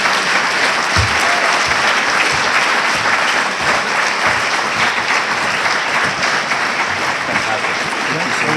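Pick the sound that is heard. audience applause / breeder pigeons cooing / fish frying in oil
audience applause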